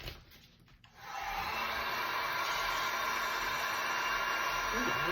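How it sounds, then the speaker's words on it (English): A heat gun blows hot air over alcohol ink, switching on after about a second into a steady, loud broadband rush that holds to the end with no pauses. "Let's get the heat gun."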